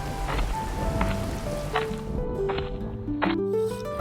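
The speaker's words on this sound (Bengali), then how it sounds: "বৃষ্টি এত জোরে হচ্ছিল যে ছাতা কোনো কাজে আসছিল না" Heavy rain patters steadily on a surface in a dramatised horror scene, a dense hiss with a few sharp drip-like knocks and soft musical tones drifting underneath.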